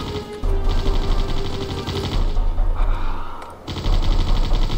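Rapid, rhythmic automatic gunfire from the video game Wolfenstein: Shadows of Destiny, with closely spaced shots rattling steadily over a low drone. The fire stops briefly, then resumes near and loud.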